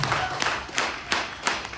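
A few separate, sharp hand claps from an audience at a business motivational talk, spaced about a third of a second apart over a steady room hum, with no talk.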